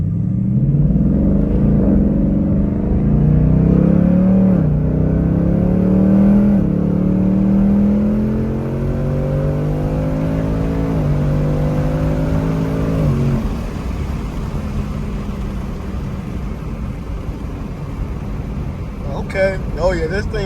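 Ford Mustang S550 Mach 1 V8 accelerating hard from the driver's seat, engine note climbing through the gears with clear upshifts, the revs dropping at each change before rising again, a loud steady rumble throughout.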